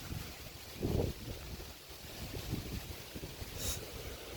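Wind blowing outdoors over the water at Silver Springs, Florida, a low rushing buffet against the microphone with gusty swells, faint and steady, no talking.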